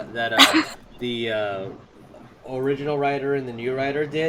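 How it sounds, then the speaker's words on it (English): A dog barks loudly and briefly in the background while people talk in the foreground. "That's my dog."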